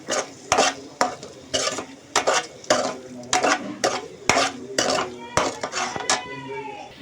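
Boiled eggs being stirred into a masala curry in a metal pan, with a steady run of sharp spoon clanks and scrapes against the pan over a low sizzle, close and loud with no talk.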